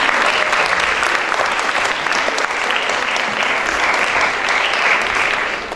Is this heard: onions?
no